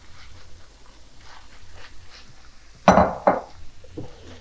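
Cooked pasta going into a pan with pre-cooked tuna sauce, heard as quiet rustling followed by a couple of loud clanks and scrapes of a utensil against the pan.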